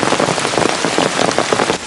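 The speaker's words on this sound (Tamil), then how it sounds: "ஹட்டன் பிரதேசத்தில் இன்று முற்பகல் தொடக்கமே கடும் மழை பெய்ததாக எமது பிராந்திய செய்தியாளர் தெரிவித்தார்." Heavy rain pours down in the Hatton area, a loud, dense, close patter of drops striking surfaces without pause and no voices over it.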